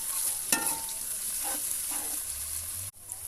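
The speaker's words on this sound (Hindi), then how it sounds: "अच्छी तरीके के साथ प्याज और सब्ज़ मिर्च की भुनाई करूंगा।" Onions and green chillies fry in a kadai with a soft, steady sizzle, broken by a few quick scraping stirs of a spoon against the pan.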